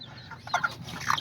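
A small chocolate-colored hen of the Serama or Azteca bantam type makes soft, quick clucks in short bursts, close by and fairly quiet.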